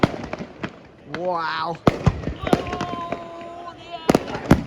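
Fireworks exploding at the Swanage Carnival display, a run of sharp, loud bangs spaced irregularly with crackling bursts and a rising whistle between them, while a person exclaims nearby.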